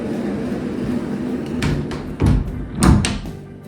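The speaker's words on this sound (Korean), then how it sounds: "시끄러우니까 문을 닫고 얘기할까요?" A dormitory room door in London is pushed shut, giving a couple of dull thuds against low background noise from people moving out.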